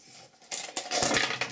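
Dice thrown into a small homemade box for a Ligretto dice game, rattling and clattering in a quick burst of hard knocks that builds and tumbles for about a second, close up with no talk.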